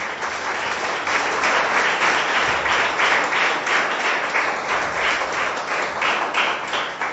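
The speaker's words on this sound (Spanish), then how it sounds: "Regálale un aplauso al Señor." A church congregation gives a steady round of applause for the Lord, dense clapping sustained evenly for several seconds with no talk over it.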